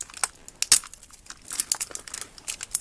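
Crinkly plastic packaging rustles and crackles in short bursts up close, with sharp snips and crunches scattered unevenly.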